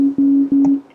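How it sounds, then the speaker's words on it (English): Sine wave synth notes played from a Push controller in Ableton Live: a steady, pure low tone held throughout, briefly retriggered three times with soft attacks, alone with no talking. "So first thing I'm going to do is just start with a sine wave."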